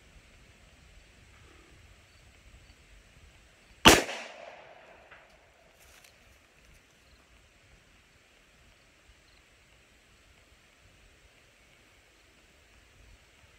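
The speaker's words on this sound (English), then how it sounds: "357 Magnum out of the Taurus 605" A single sharp .357 Magnum shot from a Taurus 605 revolver cracks out loud and close outdoors, trailing into a brief rolling echo before quiet ambience returns.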